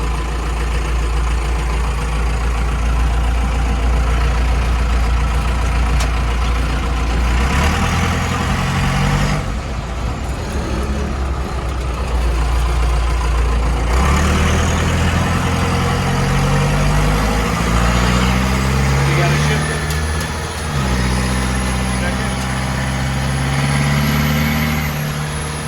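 A 1950 International rat rod truck drives along with a loud, close engine, the revs rising and falling through several gear changes over a steady heavy rumble, with no talking.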